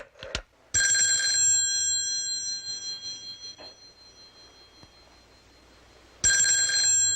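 An unanswered telephone rings in a bright electronic burst, then the line falls near-silent for several seconds before a second ring starts, loud and close, with no one speaking.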